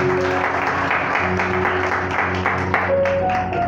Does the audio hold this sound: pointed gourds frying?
no